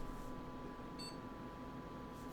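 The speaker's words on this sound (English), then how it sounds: "Nice happy little beep." A single short electronic beep from a Gigabyte computer motherboard at power-on, faint and clean against the steady hum of cooling fans, with no talking.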